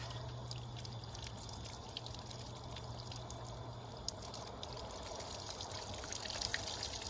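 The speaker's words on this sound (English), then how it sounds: "take this over to our hose and rinse it off" Water from a garden hose rinsing dye off a tie-dyed Lululemon jacket, a faint continuous pouring and trickling splash with small drips, quiet and steady with no talk.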